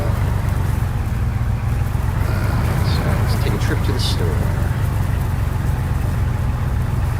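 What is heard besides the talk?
car driving in video game DayZ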